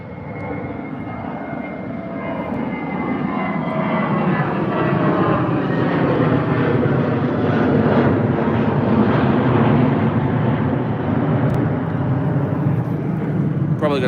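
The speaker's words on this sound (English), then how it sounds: "British Airways off to Madrid, A320." A British Airways Airbus A320 departing London Heathrow for Madrid, its jet engines roaring loud and steady throughout and swelling slightly in the middle, with a voice speaking faintly underneath.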